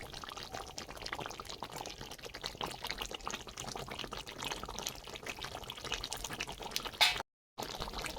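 Cooked chicken masala curry poured out of a pan, a continuous soft wet pouring and sliding sound with faint drips, fairly quiet, ending in a brief cut.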